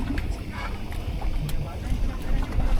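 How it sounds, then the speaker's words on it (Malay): Strong wind at sea buffets a fishing boat out slow jigging, a steady rough roar with low rumbling gusts and no clear speech. "Angin kuat lagi."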